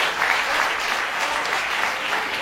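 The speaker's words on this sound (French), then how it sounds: "Applaudissons pour Jonas." Audience applause for a trumpet competition finalist at the final, a steady wash of many hands clapping with no pauses, moderately loud and free of talk.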